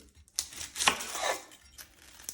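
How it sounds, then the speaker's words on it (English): A knife chops onions on a cutting board in a home kitchen, with a few quiet, separate cuts spaced unevenly and soft crunching between them. "Everybody has their own way of cutting onions"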